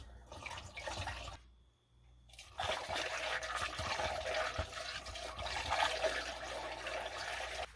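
Yeast pours through a Star San sanitized funnel into glass carboys while brewing a saison, a soft trickling and dribbling of liquid with a short pause before the flow resumes, faint and close.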